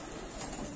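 Pigeons at a high-flyer loft in Moradabad give soft, low, throaty coos, faint and somewhat distant beneath a hissy outdoor background.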